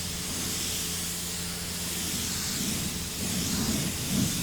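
Rinse spray hitting a dirty gloss-black car wheel coated in brake dust and tire shine, a continuous close hiss of water with slight surges toward the end.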